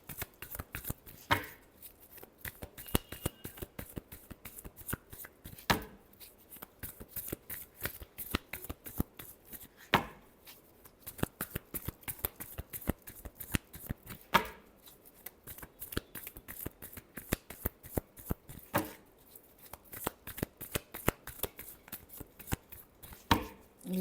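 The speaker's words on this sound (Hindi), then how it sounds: "Last shuffle." Tarot cards shuffled by hand in a long, steady run of crisp riffling slaps and flutters, close and fairly quiet, repeating rhythmically throughout with no talking.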